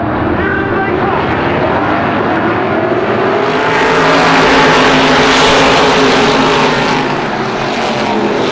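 Race cars with 600-horsepower engines approach in a loud, swelling roar that builds to a peak, then eases off slightly, with a voice calling out over it.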